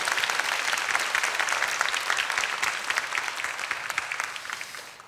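Audience applause at a Korean economic concert and panel talk on the birth rate, a dense steady clapping from a hall crowd that holds through about five seconds and thins slightly at the end, with no voices over it.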